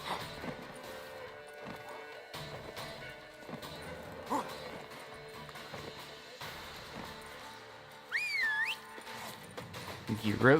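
Roach, the horse in The Witcher 3, gallops with a steady clip-clop of hoofbeats over continuous game ambience and music. A sharp rise in loudness comes near the end.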